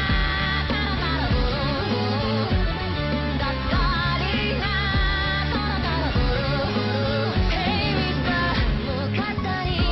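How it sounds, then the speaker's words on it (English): A dense pop track fills the mix, with piano and keyboards woven into heavy layered instrumentation and steady rhythmic hits, playing loud and continuous throughout with no talking over it. "I don't know if you can hear in the background the keys and piano."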